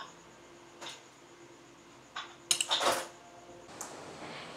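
Utensil scraping and clinking against a pan while food is stirred after vinegar goes in, a few short clatters and one busier burst of metallic scrapes, fairly close in a quiet home kitchen.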